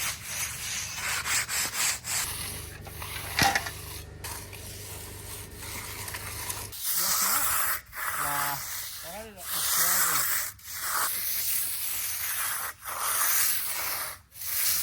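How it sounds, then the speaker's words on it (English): Rubbing up freshly edged exposed concrete with a cover, a steady scraping rub on a building site, broken by short pauses, with intermittent talk in the background. "That one's all edged and rubbed up with a cover."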